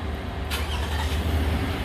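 A 2011 Toyota RAV4 engine cranks and catches, then settles into a low, steady idle, heard close and with no talk.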